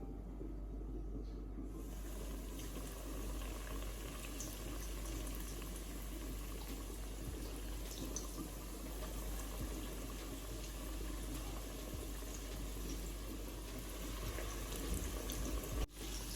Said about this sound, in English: So I'm just gonna let that fry for about 5 minutes.